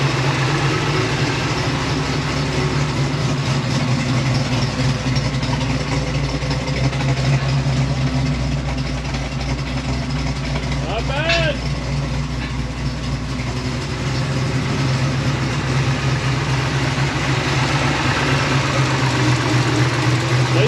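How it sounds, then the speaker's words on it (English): A 1956 Chevy gasser wagon's engine idles at a raised, even speed, a steady low rumble, continuous throughout with no variation or voices. "It's got a bit of a fast idle."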